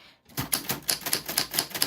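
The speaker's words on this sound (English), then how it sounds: "as I slowly get used to typing in front of you" An old typewriter clacks out a quick, steady run of about eight sharp keystrokes, close and clear, alone with no talking.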